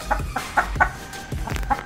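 An Ameraucana hen clucks indoors in a series of short, close, repeated clucks at an uneven rhythm, with no other sounds.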